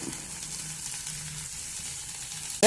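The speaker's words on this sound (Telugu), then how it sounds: "వేగేంత వరకు వేగనిద్దాము కారము పచ్చివాసన పోయేంత వరకు వేగనిద్దాము" Chili powder, garam masala and coriander powder frying in a pan with cauliflower, a soft steady sizzle ending in a sudden loud burst of scraping or stirring.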